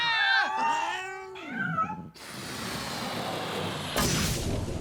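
Several loud, close meows and yowls from cats in quick succession, followed by a steady broadband rumble and hiss.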